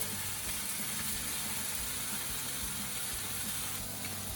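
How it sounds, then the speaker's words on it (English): Taylor ham and buttered pork rolls sizzle on a hot griddle, a steady close-up crackling hiss with no talking. "Next, we're going to put some Taylor ham onto the griddle."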